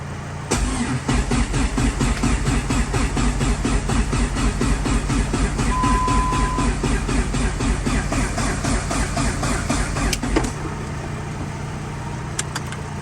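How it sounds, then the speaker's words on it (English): A fully built Dodge Neon ACR cranks over after its battery is hooked up, the starter churning in a fast, even rhythm for about ten seconds at close range, then cutting off abruptly. "Now let's see if this thing cranks over."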